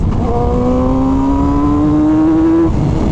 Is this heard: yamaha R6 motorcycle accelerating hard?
yes